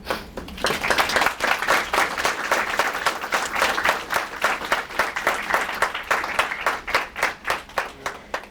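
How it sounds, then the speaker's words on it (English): Audience applause for speakers after a talk on music and theater in Nazi camps and ghettos, a steady crowd of clapping that turns into rhythmic, unison pulses toward the end. "Round of applause for both speakers"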